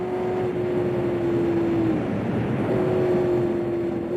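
A 1968 Le Mans race car engine drones loudly from onboard, holding a steady high tone, then dropping briefly before climbing again as it accelerates, with constant wind and road roar underneath.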